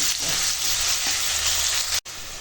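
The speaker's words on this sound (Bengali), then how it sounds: "এখন পেঁয়াজটা ভালো করে ভেজে নেব" Onions fry in hot oil in a pan with a broad, steady sizzle and occasional stirring, loud and close. The sound cuts out briefly near the end and then resumes.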